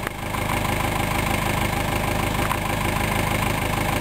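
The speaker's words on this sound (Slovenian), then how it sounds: "Tukaj pa vidimo že en traktor, ki pluži." A tractor's engine runs steadily while it plows snow on a road near Kamnik, giving a continuous, fairly loud mid-to-low idling drone with no talk.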